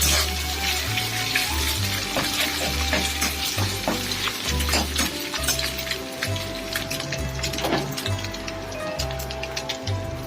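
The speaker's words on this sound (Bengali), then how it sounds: "ডিমটা ভালো করে ফ্রাই করে নিচ্ছি" An egg frying in hot oil in a wok, a continuous crackling sizzle close by, with a low rhythmic hum and some scraping under it.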